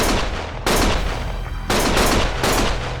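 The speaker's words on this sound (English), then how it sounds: "Stop shooting!" Loud, close bursts of automatic gunfire in the video game Lost Judgment, three sustained volleys separated by brief gaps with no one speaking.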